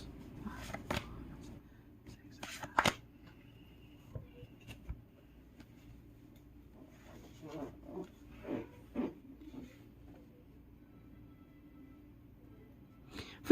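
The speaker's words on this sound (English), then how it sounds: "I'm shuffling on the back side of the camera" Cards being shuffled just behind the camera, several quiet, brief riffling bursts spread out over a low steady background hum.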